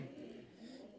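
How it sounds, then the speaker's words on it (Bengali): Fantail pigeons coo softly in a fancy pigeon loft, a faint low continuous burbling over a brief moment with no talk. "এখানে এক জোড়া ফ্যান্টেল কবুতর"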